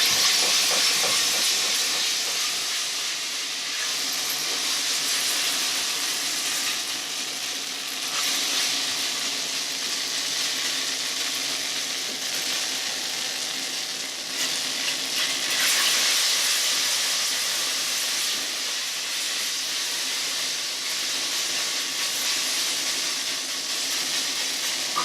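Garlic and shallots sizzling in olive oil in a pan, a steady, close hiss of frying that holds evenly throughout with no talking.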